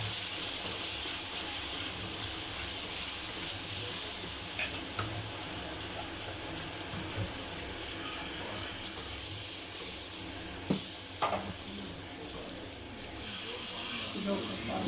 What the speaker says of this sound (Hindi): अब जो है हम इसमें पानी ऐड कर रहे हैं।